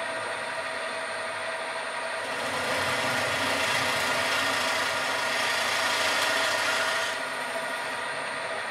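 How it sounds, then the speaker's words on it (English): A drill whirs steadily, rising in strain for several seconds as it bites right through metal, then easing back, close and loud. "So I will drill it right through and see what happens"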